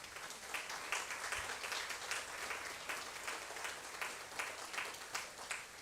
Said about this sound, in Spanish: a quien por favor le pido brindemos un fuerte aplauso